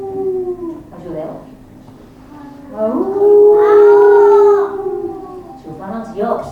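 A person imitates a wolf howling during a children's book presentation, voicing a long sustained howl that swells loud after shorter vocal sounds, close to the microphone.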